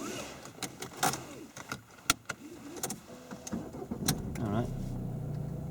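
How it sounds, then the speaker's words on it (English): A car on a driving lesson is started, with key jangling and small clicks before the engine turns over and settles into a low idle, while people talk briefly inside. "So you can start the car now."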